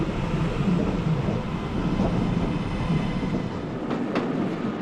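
A modern train runs along a railway on the Waverley Route near the River Caldew, giving a steady, fairly close rumble with soft rhythmic wheel clatter throughout and a couple of faint squeals near the end.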